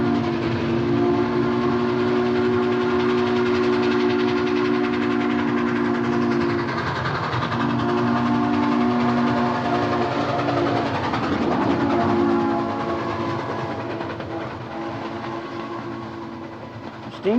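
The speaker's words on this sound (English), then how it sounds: "the thunder and fury of the steam train has been saved from extinction" Frisco 1522, a restored steam locomotive, chugs along with a long sustained whistle blast that breaks off briefly and resumes, loud over a steady rumbling of the running train.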